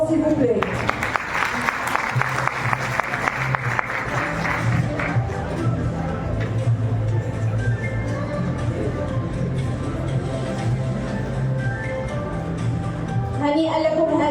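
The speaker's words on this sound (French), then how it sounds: "Sous vos applaudissements, s'il vous plaît." An audience at a tech innovation event applauds a prize presentation, dense sustained clapping filling the first few seconds and then continuing more softly under a voice and background music.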